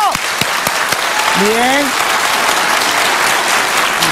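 A studio audience on a talk show bursts into loud, sustained applause, a dense continuous clapping wash with a few sharp claps at the start and a brief spoken word over it.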